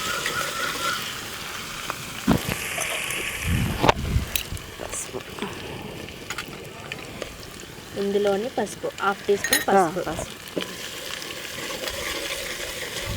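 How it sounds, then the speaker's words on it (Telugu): Garlic sizzles and fries steadily in a pan for a village-style country chicken curry, with stirring clatter and scraping, while someone talks over the cooking. "వెల్లుల్లి మంచి పచ్చి వాసన పోయేంత వరకు ఒక టూ మినిట్స్ వేయించుకోవాలి"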